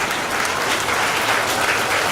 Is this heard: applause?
yes